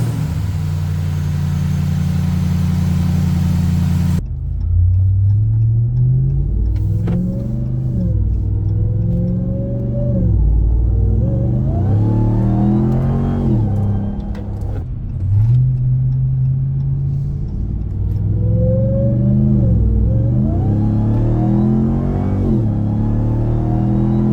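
RAM TRX pickup fitted with an aFe Momentum GT intake, driven on the road: a deep engine rumble rising and falling through repeated revs and gear changes, loud and close with intake growl.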